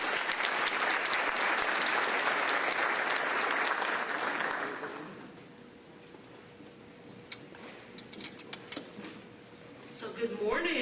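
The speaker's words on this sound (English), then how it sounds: "So give Amazon a round of applause." Crowd applause from an audience at a county government State of the County address, loud and sustained for about five seconds, then fading to a quiet room with scattered sounds.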